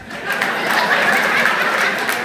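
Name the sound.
audience clapping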